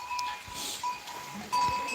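A year-old first-time mother goat gives a few thin, faint bleats against a soft background hum, with one slightly louder call near the end.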